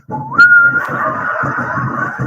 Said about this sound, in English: That was Lassie whistling